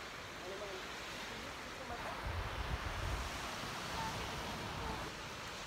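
Ocean surf breaks steadily at Morong Beach, a white-sand beach in Batanes, as a continuous, soft wash mixed with wind rumbling on the microphone.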